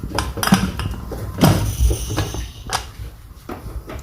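Metal pressure cooker pot and lid clank and knock up close, with a few sharp bangs followed by quieter handling sounds, while cooking mutton kidney and liver.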